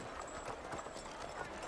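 Horse hooves clip-clopping as a horse pulls a carriage in a Victorian setting, a steady rhythm of quick, close hoof beats running throughout over a dense, noisy background.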